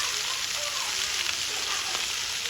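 Onion, green chili, garlic and curry leaves sizzling in a pan of hot oil for a fish curry, a steady, dense close-up frying hiss with no pauses.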